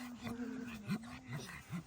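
A voice imitates a small dog with soft whimpering yips and little barks, several short bursts in a quiet indoor setting.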